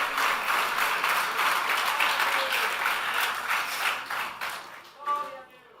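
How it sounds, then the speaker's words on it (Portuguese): Church congregation applauding during a sermon, a dense burst of many hands clapping that fades toward the end as a voice returns. "Pode aplaudir, isso é para ele, não é para mim."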